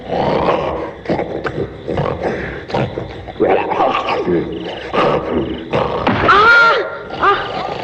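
Cartoon bear growling and grunting noisily, in loud, rough bursts that rise and fall over several seconds with a few higher whining tones near the end.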